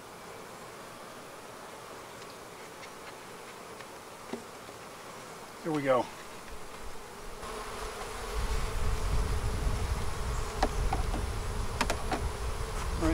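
Honeybees buzzing around an open hive frame during a beekeeping inspection, a soft continuous hum with a single close bee zipping past, then rising rustling and handling noise; a person speaks briefly.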